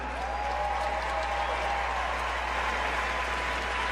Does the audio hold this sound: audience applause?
yes